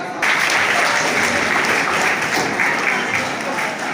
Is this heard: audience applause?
yes